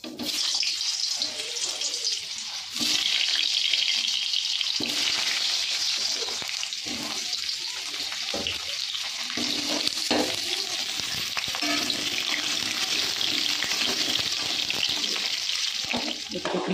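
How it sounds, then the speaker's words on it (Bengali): Potatoes frying in a pan while being stirred, with steady loud sizzling and scraping for about 17 seconds, alone without talk. "আর একদিকে আলুটা আমার প্রায় ভাজা হয়ে গেছে"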